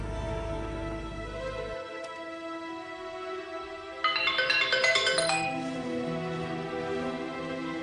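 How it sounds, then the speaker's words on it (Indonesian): A phone rings while a call is being placed, with a steady electronic ringback tone followed by a louder burst of ringtone melody, clear and close with no talking. "gue telepon Damar sekarang."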